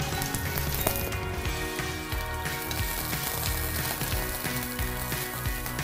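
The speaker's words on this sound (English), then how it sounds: "Then you can start sauteing our vegetables. Take your onions and you put them in." Onions sautéing in a pan at home, a steady close sizzle and crackle with soft background music underneath, running continuously with no talk.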